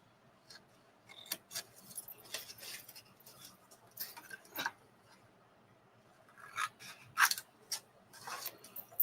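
Scissors cut a small piece of paper with a quiet, scattered series of sharp snips and clicks, some in quick clusters, against a nearly silent background.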